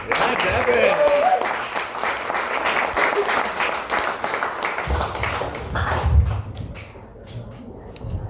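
A comedy club audience at the Harmony Bar & Grill claps steadily after a stand-up set, a dense patter of hands that thins near the end, with voices talking over it.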